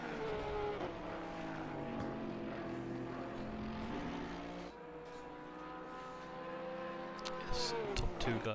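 Porsche race cars screaming around a track in a racing video game, several engines layered with rising and falling pitch, loud and steady throughout with a commentator talking over them.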